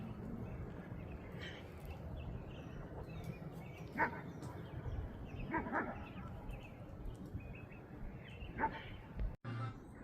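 Prince, a soaking-wet, wound-up dog, gives a few scattered barks and yelps over a steady background hiss, some closer and louder than others, with no voices.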